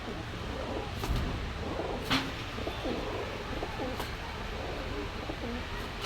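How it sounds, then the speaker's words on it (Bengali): Golden Saharanpuri pigeons coo softly at a pigeon market, low repeated throaty rolls under a steady background murmur, with a couple of sharp knocks. "এটা আছে আপনার গোল্ডেন সারানপুরি কবুতরের মাদি"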